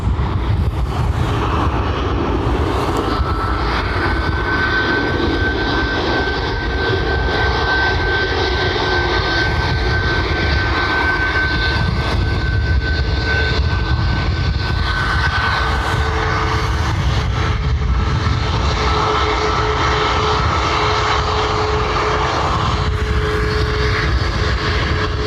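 An airliner departing Dublin Airport for Philadelphia, a loud, sustained jet engine roar with a steady tonal whine running throughout, close and unbroken, with no talk.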